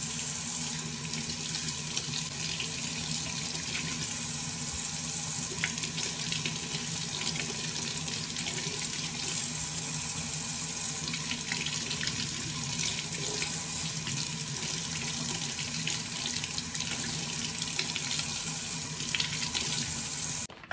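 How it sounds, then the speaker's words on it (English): Vegetables rinsed under a running kitchen tap, a steady loud rush of water hitting the sink with faint splashing and shifting as the produce is handled, continuous and close throughout. "So let's wash our vegetables."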